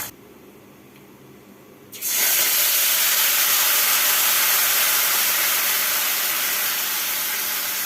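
Amla dropped into hot oil with mustard, fenugreek, carom, fennel and nigella seeds bursts into a loud, steady frying hiss after two quiet seconds and keeps sizzling close by.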